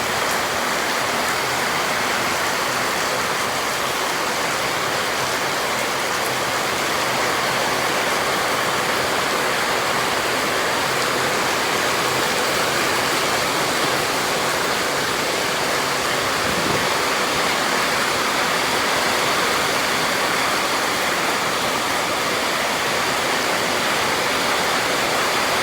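Steady rain falls outdoors near banana plants, a dense continuous hiss with no pauses, loud and unbroken from start to finish with no voices.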